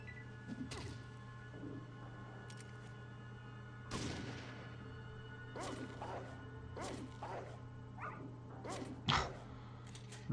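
A dog in the video game Fallout 4 barks and snarls through a fight, mixed with scattered thuds and impacts, fairly faint and irregular.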